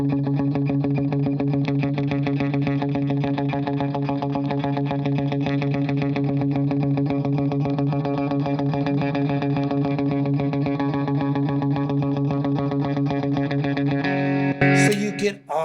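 Sawtooth ES hybrid electric guitar with humbucker pickups, played clean through effects while the pickup selector is switched, giving a sustained chorus-tinged chord tone that holds steady and loud before ending in a short burst of switching noise and a sharp change in the tone.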